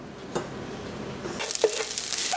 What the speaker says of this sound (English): The rice is frying